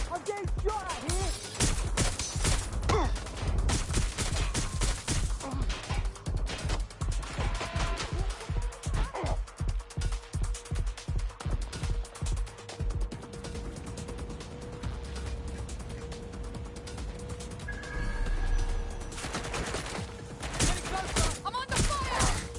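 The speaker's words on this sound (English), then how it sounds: "I'm under fire! I'm getting shot at here!" Rapid automatic gunfire rattles in Watch Dogs Legion, loud close bursts in fast rhythmic volleys with pauses and mechanical clatter, while game voices call out over the shooting.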